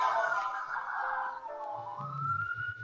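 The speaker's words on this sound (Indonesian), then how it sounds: "ambulans" An ambulance siren passes on a busy street with motorbikes around, its loud wailing tone sweeping up and down close by, with a low rumble of traffic underneath.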